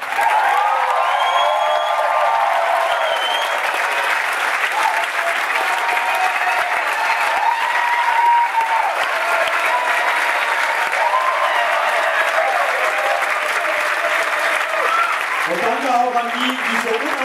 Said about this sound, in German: großen Applaus haben auf die beiden Kollegen, die so wunderbar moderiert und alle angesagt haben.